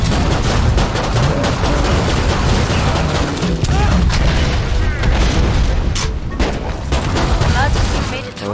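Grenade explosions and gunfire in the shooter game Killing Floor 2 boom repeatedly in a crowded match, loud dense blasts and rapid shots piling up continuously while players talk excitedly over them.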